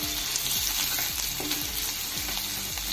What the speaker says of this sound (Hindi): इसे चलाते हुए गोल्डन करेंगे, जिसे बराबर पक जाए लहसुन और अदरक।